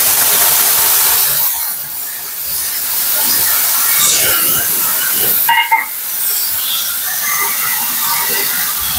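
A spice paste of cumin, coriander, ginger and tomato sizzles hard in a hot pan, a loud, steady frying hiss with crackling spits throughout and one brief clatter midway.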